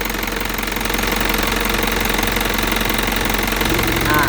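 A 2014 Isuzu Elf NKR71 long truck engine runs steadily at idle, a loud close diesel clatter with a constant rhythmic knock and no speech.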